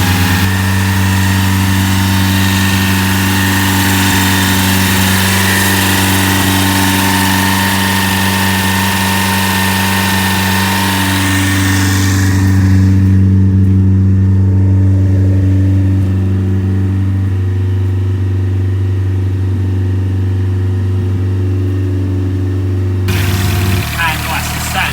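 A Renault RS Turbo engine fitted with a Stage 4 racing camshaft runs at a raised, steady fast idle close by, a loud continuous drone that holds for the whole stretch with a brief change near the end.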